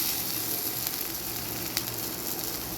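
Okra sautéing with chopped onion in a pan: an even, hissing sizzle carries on steadily from start to finish, close and moderately loud, with one small tap partway through and no voices.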